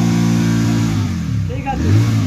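A GT 650 motorcycle engine revs with a strong, steady low harmonic drone, close and loud, its pitch shifting and rising slightly toward the end of the short burst.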